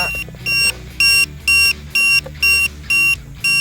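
Alarm on a 450-size MD500E RC helicopter, sharp loud electronic beeps in a fast even pulse, about eight bursts with short gaps between them, and no voices.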